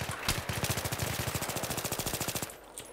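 Rapid machine gun fire in the Battlefield 3 video game: a sustained burst of evenly spaced shots, loud and close, rattling for about two seconds before cutting off.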